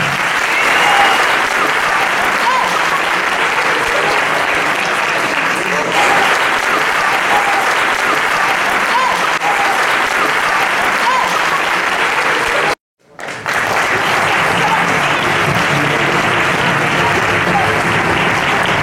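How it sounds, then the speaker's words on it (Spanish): Sustained loud applause from a large audience, steady clapping that cuts out briefly near the end before resuming. "¡Un aplauso para Paola!"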